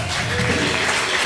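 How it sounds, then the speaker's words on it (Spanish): A church congregation applauds during a Spanish-language Sunday service, a loud continuous roar of many hands clapping at once, with faint voices mixed underneath. "Dale ese aplauso a Jesús."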